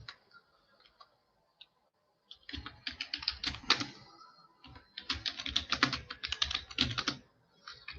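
Typing on a computer keyboard, with sparse single keystrokes at first, then bursts of rapid, close clicking that pause briefly midway and taper off at the end.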